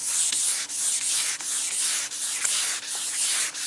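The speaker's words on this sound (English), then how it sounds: "once you get your sandpaper in your block, make sure it's wet. Just go back and forth." Sandpaper on a block wet-sands car paint on a Chevy Caprice, a close, steady rhythmic rasp of quick back-and-forth strokes, about three per second, with nothing else heard.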